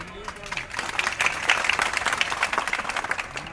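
Audience clapping during a Hindi speech at a public gathering, a moderate burst of many hands that swells and fades over a few seconds, with a voice speaking faintly over it.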